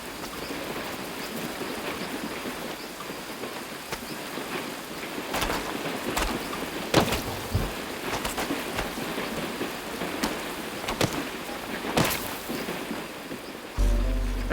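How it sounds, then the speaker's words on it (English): Heavy rain pours through a flooded forest in Brazil as a dense, steady hiss of drops on leaves and water, broken by several sharp cracks and splashes, with a louder surge at the very end. "Their highly organized world is disintegrating under the onslaught of the rain."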